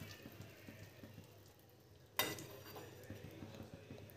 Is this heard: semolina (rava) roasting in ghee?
yes